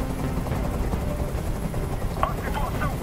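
The rotor drone of a helicopter in the video game Detroit: Become Human runs steady and loud throughout, a thick low rumble, while faint voices come and go beneath it.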